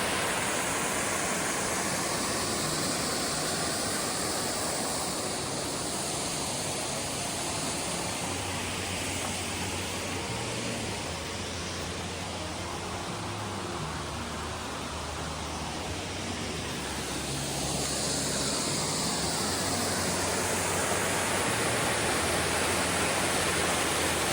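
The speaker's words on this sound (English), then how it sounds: "quite a bit of water flowing over it" A waterfall at McCormick's Creek State Park roars steadily and loudly throughout, a dense, continuous rush of water with no pauses and no voices.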